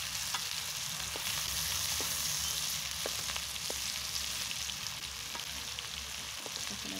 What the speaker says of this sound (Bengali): এখন আমি খুব সুন্দর করে মাছটা ফ্রাই করে নেব।